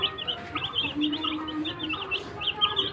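Small baby chicks cheep in quick, high, repeated peeps close by, with no one talking.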